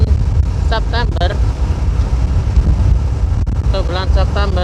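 Strong wind buffets the microphone while riding a motorcycle at around 50 km per hour on a road, a loud constant low roar with someone talking over it in bursts.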